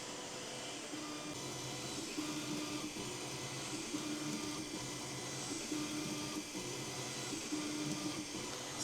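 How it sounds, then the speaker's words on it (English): A eufyMake E1 UV printer printing on a phone charger: steady mechanical whir with a faint repeating motor hum and periodic shifts in tone, running continuously with no talking. "So now it's printing"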